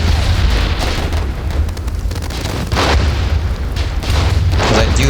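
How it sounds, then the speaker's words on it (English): A mortar explosion in the war video game Warfare, a loud, deep boom with a rumbling, noisy blast filling the mix, surrounded by continuous battlefield roar. "Okay, mortar."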